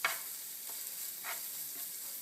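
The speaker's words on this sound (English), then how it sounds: "So I'm going to leave the whole jalapeno in there and just mix it around." A whole jalapeno is stirred around a sizzling pan for palak paneer, giving a steady quiet fry hiss with a few soft scraping strokes and no talk.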